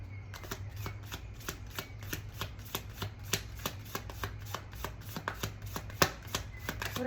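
Playing cards are riffled and shuffled repeatedly at close range, each pass a sharp rapid flutter of card edges, spaced in a regular rhythm over a faint steady background hum.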